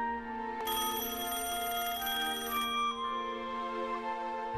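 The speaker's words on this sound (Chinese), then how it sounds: "潘厚任突然接到了赵九章的一个电话" A telephone rings in a 1965 scene in China, giving a sustained, bright, tonal ring that carries moderately quietly with no voices.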